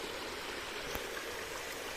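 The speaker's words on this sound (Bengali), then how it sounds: "মাঠের জলগুলো নিচে নেমে যাচ্ছে" Rainwater draining off fields into the Ichamati river during rain, heard as a steady, even rush of flowing water with a broad hiss, close and unbroken, with no voices.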